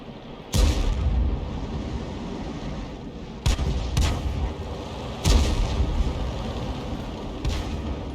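Artillery fire in a tank video game, a Hummel self-propelled gun firing heavy rounds: four deep booming blasts at irregular intervals, each trailing into a rumbling decay over constant low engine drone.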